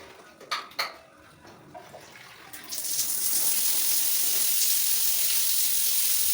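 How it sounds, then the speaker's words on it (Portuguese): A conventional shower running at normal flow in an apartment bathroom, a steady broadband hiss of water that starts abruptly partway through after a few light clinks and taps, then continues evenly and fairly close. "Chuveiro com vazão normal."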